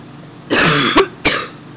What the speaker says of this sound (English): That's my cough.